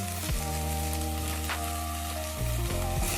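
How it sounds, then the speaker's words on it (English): Chopped carrots and sweet potatoes sizzle in a Dutch oven, a steady close frying hiss over a droning tonal background that shifts in pitch a few times. "I'm adding the chopped carrots and sweet potatoes into my Dutch oven now. Their natural sweetness blooming as they sizzle"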